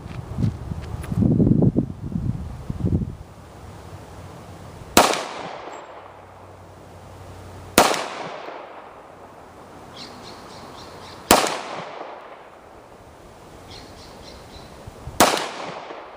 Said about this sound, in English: So I'm going to shoot off some more rounds.